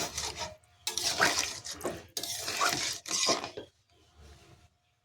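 Water poured into a cooking pan of fig and shrimp curry, coming in several splashing bursts separated by short pauses, fairly quiet and close.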